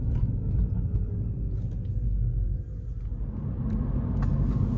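A Mini Electric car drives along a road, its cabin filled with a steady low rumble of tyres and road noise and almost no motor sound, with faint knocks and creaks over it and no voices.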